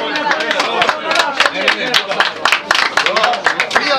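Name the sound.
applause at a wedding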